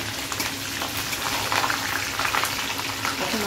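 Steady oily sizzling and crackling of green chilies dropped into hot oil for a spicy vegetable chorchori. The frying hiss runs loud and continuous throughout, with no voices.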